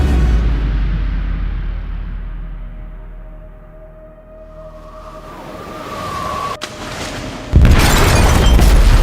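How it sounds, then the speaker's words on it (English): An explosive detonates in a ship's hold in Detroit: Become Human, starting with a heavy rumbling boom that fades and is followed by a rising tone, a sharp crack, then a second loud, sustained blast of crashing noise. "detonated an explosive in the hold"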